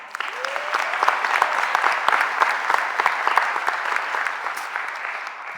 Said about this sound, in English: I want you guys to give them another round of applause